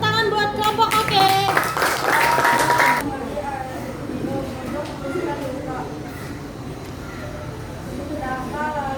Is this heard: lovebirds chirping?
no